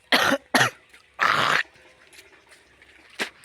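Close, loud coughing from someone with a cold: two quick harsh coughs, a pause, then a longer rasping fit. A faint lull follows and ends with a single brief cough, with no speech.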